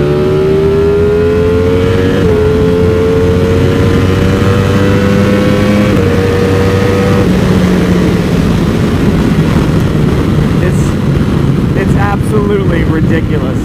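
A Ducati Panigale V4 SP with a Termignoni exhaust revs hard on a dyno, its loud engine tone climbing and dropping through sweeping pitch changes that fill the whole clip.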